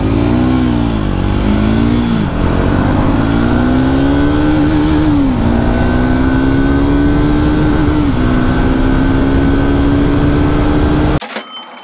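Royal Enfield Guerrilla 450 and Triumph Speed 400 motorcycles accelerate hard in a drag race, a loud continuous engine roar rising through several gear shifts before cutting off abruptly, with no talking.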